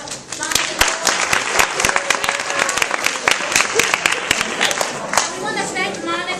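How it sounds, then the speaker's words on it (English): An audience claps loudly after a live performance by a group, dense continuous applause with crisp individual claps standing out close by and a murmur of crowd voices underneath. "So let's give them another round of applause."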